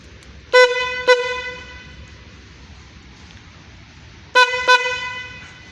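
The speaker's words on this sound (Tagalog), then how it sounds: "then also the horn is here" A car horn wired into a body electrical simulator training board sounds in two pairs of short, loud honks, the pairs separated by a few seconds of quiet room noise.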